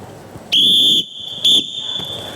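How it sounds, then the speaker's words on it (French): A referee's whistle at an improvised theatre match blows twice, one long sustained blast and then a shorter one, loud and shrill over a quiet room murmur. "Il y a eu des sifflets"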